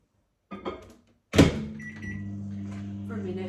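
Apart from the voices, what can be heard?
microwave oven heating frozen pak choi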